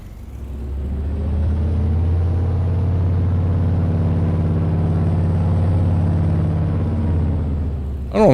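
A loud farm truck engine with a poor muffler rumbles steadily and close by for about eight seconds, a deep throaty drone with a brief rise at the very end.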